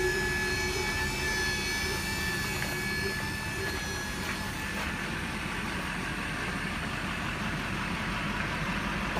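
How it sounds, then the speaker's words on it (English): Air compressor running nearby beside a 2005 Chevy Silverado diesel crane truck, a steady droning hum with a whining tone, constant throughout. "There's the air hose and there's a compressor over here."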